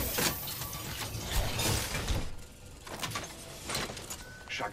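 Item crafting at a replicator in Apex Legends, a run of mechanical ratcheting and clanking gear-like clicks that continues steadily, loud and close, with no talk over it.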